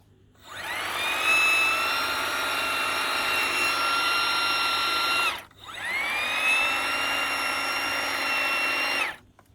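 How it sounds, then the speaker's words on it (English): An Ego battery hedge trimmer motor spins up to a high, steady whine for several seconds, stops briefly, then starts again and holds the same piercing pitch. "I think that these motors in the Ego sound a bit whiny"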